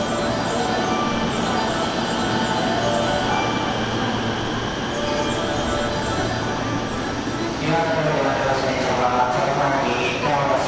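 A JR Osaka Loop Line train pulls into a platform at Osaka Station with a steady rumble and a rising screech of wheels. Platform announcements play over the train noise.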